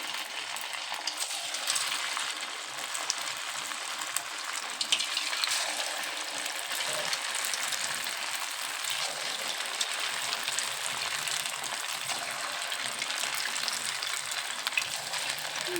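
Spoonfuls of leftover upma bonda batter drop into hot oil to fry, a soft, continuous bubbling sizzle with occasional light clinks, moderately quiet and steady, with no voices.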